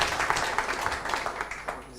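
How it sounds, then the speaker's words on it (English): An audience applauds a speaker at a SparkHour talk in India, with steady, fairly dense clapping that stays even throughout the short stretch, fading slightly toward the end. "Can we have a big round of applause for him"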